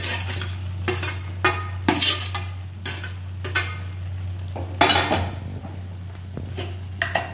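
Tomato pieces are stirred into a frying masala: repeated metal spoon scrapes and clinks against the pot over a faint sizzle and a low steady hum, nearby, with no talking.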